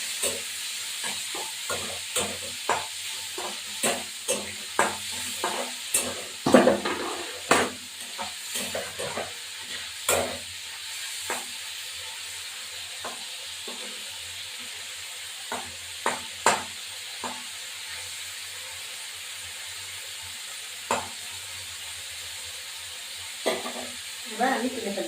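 Prawns fry in hot oil in a pan, a continuous close sizzle broken by repeated scraping stirs and clinks of a spatula against the pan, with no one talking.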